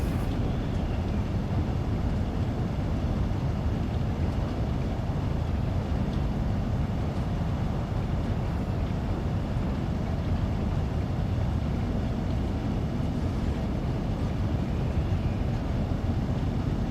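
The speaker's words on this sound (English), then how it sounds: "I just love the sound on this train." Train Sim World 2 train running, a steady loud low rumble and drone with airy wind-like hiss throughout, continuous and without talk.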